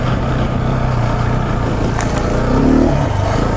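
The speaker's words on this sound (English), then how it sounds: "I just gave it a little extra pop in the throttle at the bottom. And it just hops right over that." An adventure motorcycle engine revs steadily as the rider climbs a hill, with a louder throttle pop swelling near the end, close and continuous without talk.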